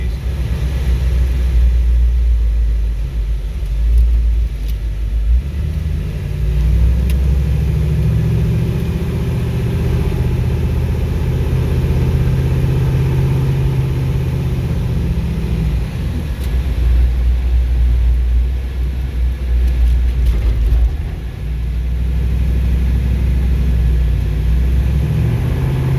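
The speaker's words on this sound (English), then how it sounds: "As you can hear, you don't hear a lot of exhaust noise, even though this motor has a pretty healthy cam in it." An International Harvester Scout II engine with a healthy cam runs steadily, giving a low, rumbling idle with mild uneven surges throughout, close by and without talk.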